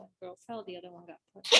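A sharp, short sneeze bursts out right after a person speaks a sentence, loud and close at the very end of the clip.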